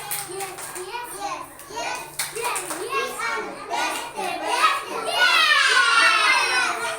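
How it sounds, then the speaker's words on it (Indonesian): Schoolchildren in a classroom chant a rhythmic class clapping cheer with a teacher, young voices mixed with bursts of hand claps that grow louder and denser toward the end. "coba sebelum buat aturan kelas, kita tepuk semangat dulu"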